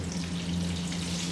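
Eggplant (baingan) tikki fry in oil in a pan, giving a close, steady crackling sizzle throughout the short stretch without any talking.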